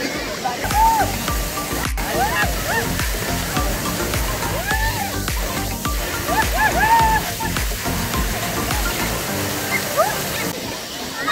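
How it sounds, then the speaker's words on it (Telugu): The Mangampeta waterfall pours with a steady, broad rushing roar close by, while people talk and call out over the constant water noise. "అంత బాగుంది వాటర్ ఫాల్స్"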